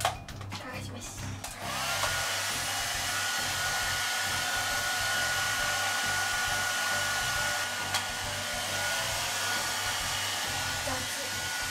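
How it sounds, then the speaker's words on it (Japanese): A hair dryer blows steadily as it dries hair at home during an evening routine, a loud continuous whoosh that starts after a few seconds of handling noise and runs without a break. "次は髪の毛を乾かします。"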